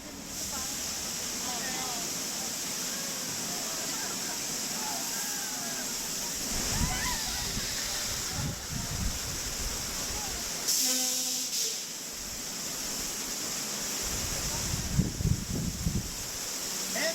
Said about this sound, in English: It sounds like the water main just broke.